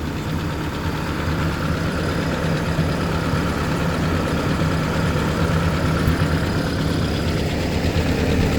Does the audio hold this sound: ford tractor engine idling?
yes